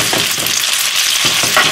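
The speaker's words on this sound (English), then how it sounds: "Stir this pasta." Spaghetti carbonara being stirred with egg in a pan, with short scraping, sizzling strokes that come in quick uneven bursts, close and fairly loud.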